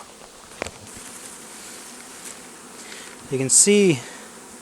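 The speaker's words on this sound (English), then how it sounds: "this hive is fending off robbers. See them fighting there." Honeybees drone in a steady buzzing hum at a hive fending off robber bees in early fall; a voice speaks briefly near the end over the buzzing.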